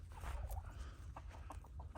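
Lavender Orpington hens free-ranging outdoors cluck softly close by, with a string of short, low clucks and murmurs over a rumble of wind or background noise.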